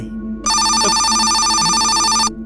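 A telephone rings loudly in a Thai-language horror video game, a dense electronic bell tone starting abruptly and holding steady for nearly two seconds before cutting off, with faint low ambience underneath.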